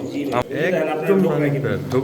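Pigeons coo softly at a seller's stall, low burbling calls mixed under someone speaking up close.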